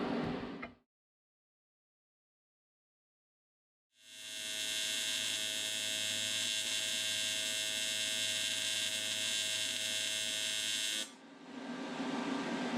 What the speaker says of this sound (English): put this back in the lathe and turn it so that I don't have any fitment or clearance issues